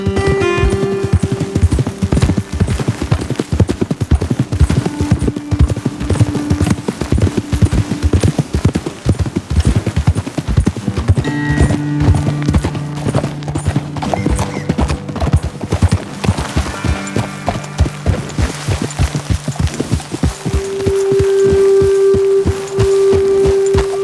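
Horses' hooves clip-clop at a steady walking rhythm throughout in Red Dead Redemption 2, with tonal game music and occasional ambient sounds over the hoofbeats and a brief whinny-like tone near the end.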